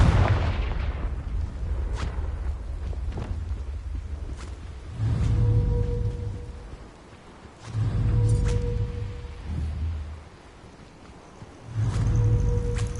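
Fire-spell blasts from the Confringo charm in Hogwarts Legacy, a series of booming bursts with deep low rumble recurring roughly every few seconds, loud and close with brief gaps between them.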